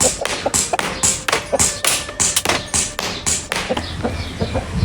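A full-metal Hi-Capa 5.1R airsoft pistol fires a whole magazine at a target in a rapid string of sharp, close pops. Roughly a dozen shots come in quick, slightly uneven succession, then a faint thud of a hit.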